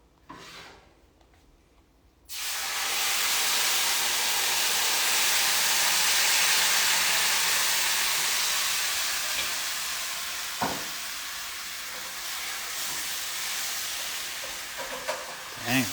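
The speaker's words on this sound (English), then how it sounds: "got a nice sizzle" Bananas Foster with rum hits a hot pan and erupts into a loud, steady sizzling hiss that holds for many seconds, with a few faint clicks and knocks underneath.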